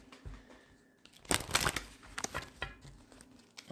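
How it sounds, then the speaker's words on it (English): Tarot cards being shuffled during a reading, a burst of close papery riffling and crinkling that swells in the middle and then trails off in lighter rustles. "let's get these cards shuffled."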